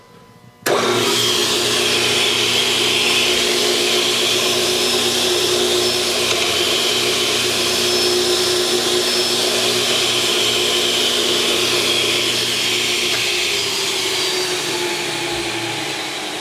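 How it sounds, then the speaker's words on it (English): A 3-horsepower, 12-inch cut-off saw on a TigerStop stand starts with a sudden jump and settles into a loud, steady motor whine and hum that runs unbroken for about fifteen seconds, then eases slightly at the end. "3 horsepower saw duty. Go ahead and start that real fast."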